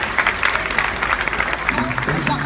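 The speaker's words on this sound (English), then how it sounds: "So, round of applause for that answer right there." Applause from the audience at a cosplay panel session at a convention, dense and steady over the whole moment, with crowd noise and some voices murmuring underneath.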